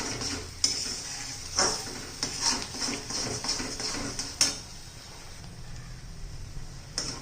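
Prawn masala stirred and fried in oil in a pan, with spatula scrapes and clinks against the metal over a low, steady sizzle, the strokes coming at irregular intervals.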